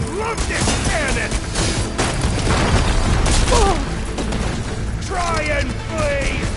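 Repeated heavy cannon blasts in Horizon Forbidden West: Burning Shores, loud booming shots in a dense, continuous battle din with voices talking over the action throughout.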